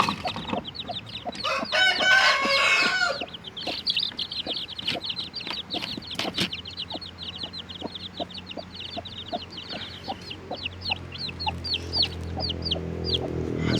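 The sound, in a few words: chickens and newly hatched chicks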